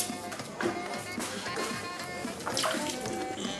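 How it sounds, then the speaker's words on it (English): A large fruit being washed by hand in a big bucket of water, with continuous splashing and sloshing that rises and falls, close up and alone. "Let's try a large bucket with water."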